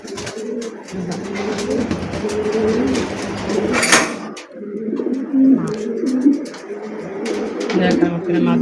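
Pigeons, a big-sized breeding pair of high-quality birds, coo steadily in low repeated throaty calls close by, with a brief clatter and human voices talking over parts of it.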